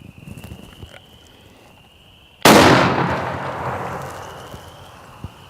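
A 10-gauge double-barreled shotgun fires a single loud, sharp blast outdoors, followed by a long rolling echo that slowly fades, with faint birds or frogs before and after.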